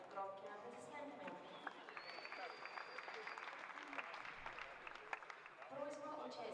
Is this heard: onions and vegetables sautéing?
no